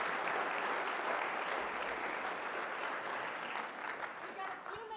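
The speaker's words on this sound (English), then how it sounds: "can we give him one more round of applause?" An audience at a character talk bursts into steady, full applause that holds loud for several seconds before thinning slightly at the end.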